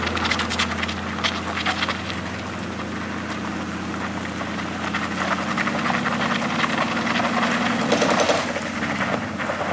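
Suzuki Carry pickup engine droning steadily as it strains up a slippery incline, with a low continuous hum and rising roar of revving and spinning wheels throughout.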